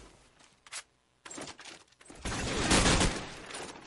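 Submachine gun fire in a competitive esports match of a tactical shooter, with a short burst followed by longer rapid volleys that swell loud toward the end, layered with clinks and scrapes.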